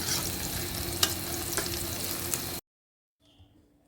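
Chicken meat cooks in a pan with a steady, close sizzle and a few sharp stirring clicks, then it cuts off abruptly to near silence with a faint trace of sound at the end.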